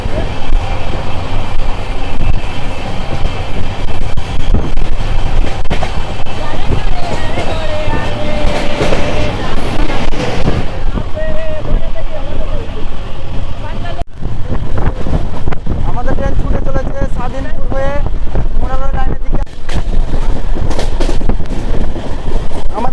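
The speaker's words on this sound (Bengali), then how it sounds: "আমাদের ট্রেনের সঙ্গে প্যারালাল রেস চলছে মালগাড়ি" A passenger train on the Sealdah–Sabroom Kanchanjunga Express run rumbles and clatters loudly and steadily with heavy wind buffeting; a freight train's rolling noise runs alongside at about 110 km/h, with faint voices at times.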